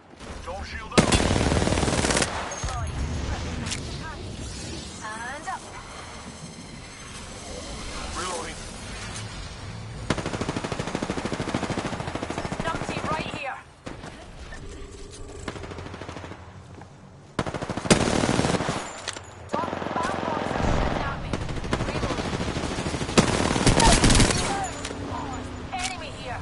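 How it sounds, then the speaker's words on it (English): Heavy automatic gunfire in the battle-royale game Apex Legends comes in long, loud bursts with sharp rapid shots. There are brief lulls between the bursts, and voices talk underneath. "Taking fire, brothers."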